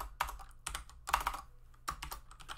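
Quick typing on a computer keyboard, a handful of close, crisp key clicks in uneven bursts, with no voices.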